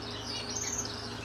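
Many pet birds in aviary cages during hot weather, giving a continuous mix of high chirps and calls at moderate volume, steady throughout with no talking.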